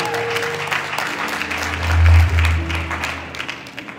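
Audience applause at the 3G Media Awards 2021 ceremony, a steady crowd clapping throughout over a low hum, with no speech.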